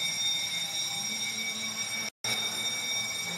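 A fire alarm's steady electronic tone rings continuously at moderate level, with a pitched whine and a momentary cutout near the middle.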